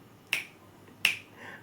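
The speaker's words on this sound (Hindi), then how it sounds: "चुटकी अंगुली से नहीं हथेली पे जाके लगती है तब बजती है" Two crisp finger snaps, made as the finger strikes the palm, ring out alone and close in a quiet room, spaced about 0.7 seconds apart, the second followed by a brief faint tail.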